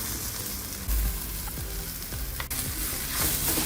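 Coarsely ground green peas, ginger and green chili paste sauté in a pan for kachori filling, a loud continuous sizzle broken by the scrape and clatter of a stirring spoon.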